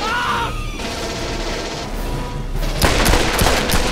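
Rapid automatic gunfire in the Aliens: Colonial Marines video game, a loud, dense fusillade that runs throughout and bursts even harder near the end, with a few faint voices underneath.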